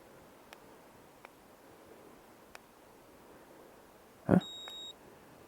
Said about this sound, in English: Okay, just beeped and it's blinking.